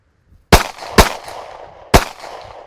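Three sharp handgun shots crack out in a defensive shooting drill, close and loud, the first two in quick succession and the third after a short pause, each with a brief ringing decay.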